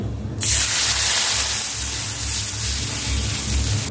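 Water tipped into a pan of hot oil tempered with panch phoron and black mustard seeds, giving a sudden loud, steady hiss that starts abruptly and roars on without letting up.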